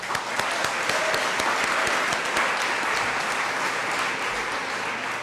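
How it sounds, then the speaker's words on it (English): Sustained applause from a crowd at a Long Beach City College celebration, many hands clapping steadily and loudly without pause, with a few sharper claps standing out nearby. "Let's clap that up."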